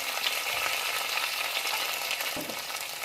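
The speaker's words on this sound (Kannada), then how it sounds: "ಈರುಳ್ಳಿನ ಸ್ಲೈಸಸ್ ಆಗಿ ಕಟ್ ಮಾಡಿ ಇಟ್ಕೊಂಡಿದ್ದೀನಿ ಅದನ್ನು ಹಾಕ್ಕೊಳ್ತಾ ಇದ್ದೀನಿ" Sliced onions frying in a pan while cooking chickpea masala, a steady close sizzle that continues throughout with a brief stir near the end.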